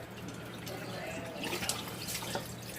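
Water drips and drains from a rinsed Thanksgiving turkey, a continuous close wet trickle with a few sharper splashes over a steady low hum.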